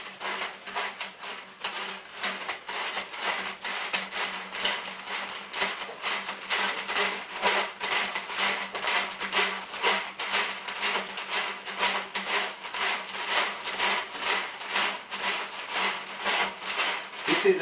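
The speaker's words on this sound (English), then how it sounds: "After that, you can just push in this fish tape" A roughly 50-meter fish tape fed into a homemade DIY case, producing a fast, continuous rhythmic clicking rasp that runs steadily throughout at close range.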